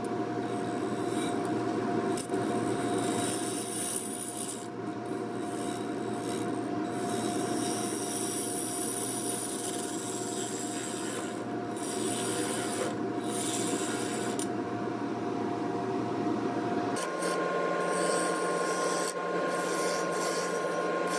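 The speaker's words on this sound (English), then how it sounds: "continuing with hollowing out the inside" A gouge hollows the inside of a wooden bowl spinning on a lathe, giving a steady, continuous scraping rasp over the lathe's hum, with a brief change in tone near the end.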